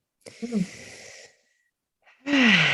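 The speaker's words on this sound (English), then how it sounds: "Deep breathing." Deep breaths drawn and released close to the microphone, with a long airy exhale followed by a pause and then another loud, rasping breath with a voiced edge.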